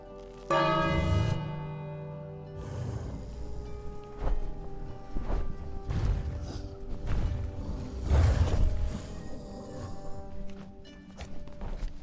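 In the PS4 game King's Quest: A Knight to Remember, a loud bell strikes once with a long, ringing decay, followed by a run of footsteps and soft movement sounds.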